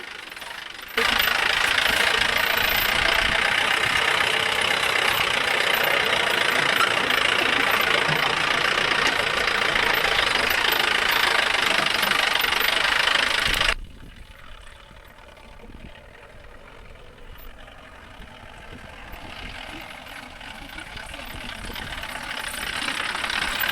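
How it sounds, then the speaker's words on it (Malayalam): An off-road vehicle's engine roars steadily with a rough, rumbling drone on a ride from Thekkady to Sathram, then drops suddenly to a quieter idle before slowly building again. "നമുക്ക് ഇവൻ്റെ എഞ്ചിൻ്റെ സൗണ്ട് ഒന്ന് കേട്ട് പുളകം കൊള്ളാം"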